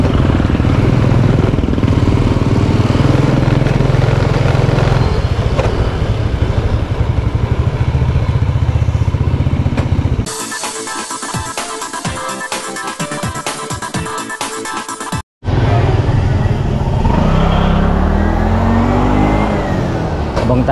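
A motorcycle tricycle with sidecar runs along a street, its engine humming and revving steadily, close and loud, with a clattering stretch partway through and a brief cut before the ride continues.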